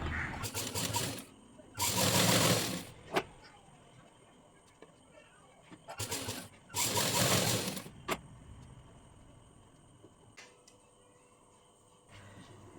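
Sewing machine stitching tuck marks on a blouse, running in two short bursts with quiet pauses and a few small clicks between them.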